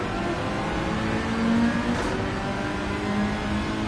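A Mazda MX-5 ND four-cylinder engine in Gran Turismo 7 hums steadily under load, rising briefly in pitch as it revs and then settling, heard alone without talk.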